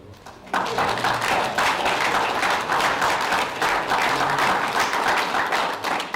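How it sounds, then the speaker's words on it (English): Applause at a city council meeting breaks out after a brief quiet start, a steady room-filling patter of many hands that continues evenly to the end. "We should applaud for that."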